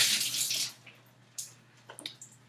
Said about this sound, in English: I'm going to get some water on my fingertips.